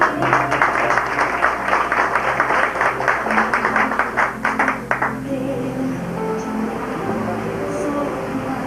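An audience at a theology bachelor's graduation ceremony applauds a graduate called up for his degree: a loud, dense round of clapping for about five seconds that then dies away into a low room hum.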